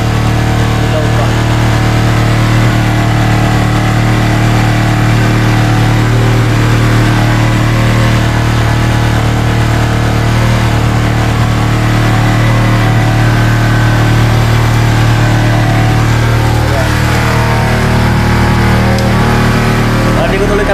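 A motorcycle engine idles steadily at close range for about twenty seconds, a low constant drone with a strong hum, kept at home in a house setting; voices speak over it at times.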